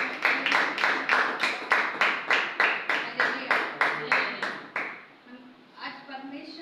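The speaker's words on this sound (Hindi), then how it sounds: "परमेश्वर का जोरदार ताली के साथ स्वागत करेंगे" A congregation in a church service breaks into loud rhythmic clapping, about a dozen even beats in steady tempo, then the clapping stops and a voice speaks briefly in the hall.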